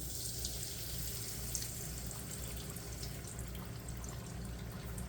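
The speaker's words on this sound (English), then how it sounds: "Let's put it into the hot oil very, very slowly." Rice-ball arancini sink slowly into hot frying oil, giving a faint, steady bubbling sizzle that hisses evenly throughout without any talk.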